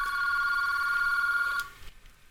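An IP desk phone rings during a call placed between two internal extensions, a steady electronic ring tone with strong harmonic bands that holds for about a second and a half and then cuts off.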